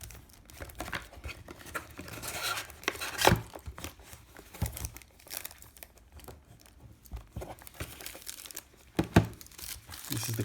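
Packaging being pulled out of a compact digital camera box, close crinkling, tearing and rustling in irregular bursts with a few sharper crunches, and a voice speaking briefly in between.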